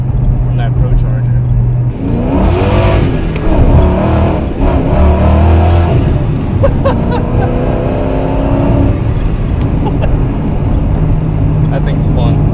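A supercharged 1995 SVT Cobra Mustang V8 with a Procharger on a test drive, its engine loud and close as it revs and accelerates through rising and falling gears, with a voice briefly over it.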